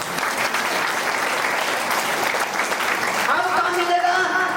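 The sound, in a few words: audience clapping for the Ruby members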